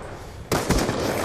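Pistol gunfire in Call of Duty Black Ops 2, a loud sharp burst of shots starting abruptly midway and ringing on, preceded by quieter game background.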